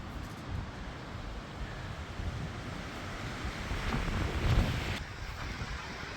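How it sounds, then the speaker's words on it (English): Strong wind gusts roaring across an outdoor firewood yard as a storm rolls in, a steady broadband rush that swells louder for a moment near the end, with no voices. "the wind has just picked up here"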